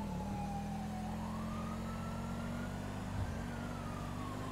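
Police siren inside the FiveM video game, a wailing tone rising and falling over an engine hum, fairly faint and steady throughout, no talking.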